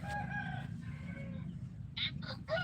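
A rooster gives a long crow, then several short, sharp clucking calls close together near the end, all over a constant low background hum outdoors.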